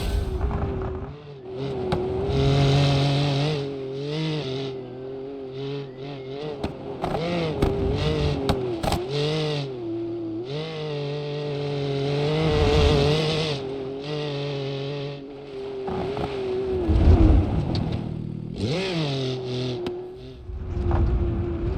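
A BeamNG.drive Arata sports car engine revs loudly and continuously, its pitch rising and falling through gear changes and throttle bursts for the whole stretch, with no talking over it.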